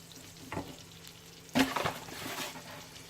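A butter and flour mixture is stirred in a pan over low heat, giving a soft steady sizzle with a few scraping strokes, close and quiet.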